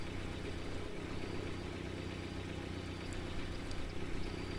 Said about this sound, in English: It swelled to a roar as they both looked up at the sky, and a huge motorcycle fell out of the air and landed on the road in front of them